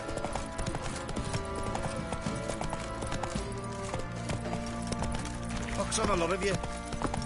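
Hoofbeats of the horse Roach in a video game, a quick rhythmic clip-clop that runs throughout, close and clear, with someone speaking over it and a brief whinny near the end.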